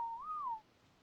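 A single whistle command to tamed creatures in the game ARK, one clean tone that rises slightly, holds, then drops away after about half a second, fairly quiet and alone over faint background.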